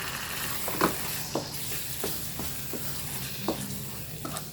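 Curry paste stir-fried in a pan for a pineapple curry with shellfish and tilapia, a steady sizzle with periodic scraping strokes of the spatula, close and moderately loud.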